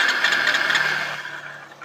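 A motorcycle engine fires up on its self-starter and revs, a steady mid-pitched running note that eases back toward idle, heard close with no talk.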